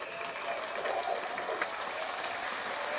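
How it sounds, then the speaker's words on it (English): Applause from a studio group at a Halloween podcast bash, a steady broadband patter of clapping that holds evenly for the full few seconds at moderate level, with no clear voices. "A real applause."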